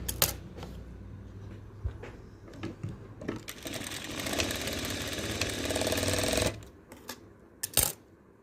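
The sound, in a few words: sewing machine stitching fabric pieces together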